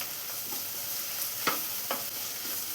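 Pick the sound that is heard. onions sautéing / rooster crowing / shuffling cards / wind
onions sautéing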